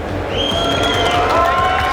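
A live crowd at the 2022 Arnold Classic bodybuilding event cheers for Chris Bumstead, a swelling roar of cheering and applause that builds after a brief moment and holds steady, fairly close and loud.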